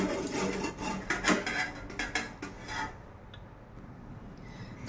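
A peeled vegetable rasped against a hand grater in a home kitchen, repeated scraping strokes up close for about three seconds, then quieter handling noises.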